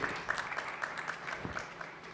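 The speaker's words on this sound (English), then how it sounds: "A big round of applause for that beautiful song and our legendary Lata ji." Audience applause at an awards ceremony in Phuket following a song, a brief burst of scattered, uneven clapping heard from within the hall.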